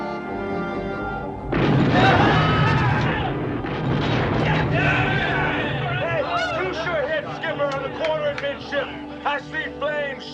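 A torpedo explosion striking a ship in a wartime submarine attack: a sudden loud boom bursts in and rumbles on, while a crowd of voices and shouting carries over the fading blast.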